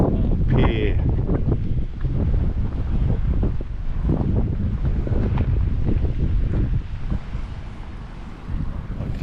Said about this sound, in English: I guess you don't want to be out here on the breaker wall when the wind is like this.